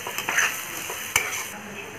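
Finely chopped onions frying in a pan, a steady bright sizzle with a few quick stirring scrapes and clinks, close and moderately loud.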